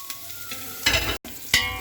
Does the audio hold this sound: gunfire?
no